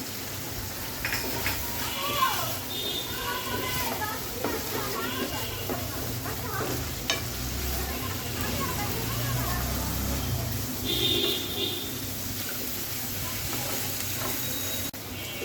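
Green chillies sizzling in a pan, a crackling fry with clinks and stirring noises running underneath a voice speaking nearby.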